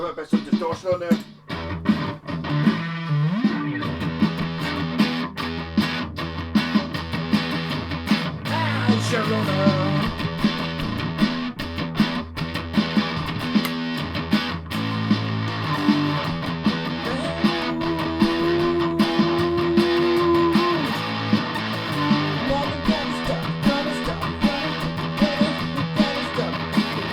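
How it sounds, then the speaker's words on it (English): Electric guitar, a purple-flake Vantage Avenger, played through a distortion effect, with a steady, loud run of dense driven chords and riffs filling the whole stretch. "Got a bit of distortion on there."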